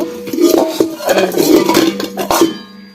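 A new metal cooking pot and its lid clatter and scrape as they are handled, with loud close clanks and rattles, then a ringing tone as the metal settles.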